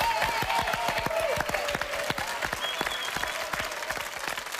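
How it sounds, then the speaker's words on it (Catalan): A TV studio audience applauding Daddy Yankee on TV3: dense, steady clapping from many hands, moderately loud and continuous, with a faint voice and tones in the background. "Un aplaudiment per Daddy Yankee."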